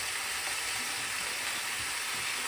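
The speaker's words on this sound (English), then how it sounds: "So bacon takes a short while to cook." Bacon sizzles and crackles steadily in a pan, a dense, continuous frying hiss at close range with no voices over it.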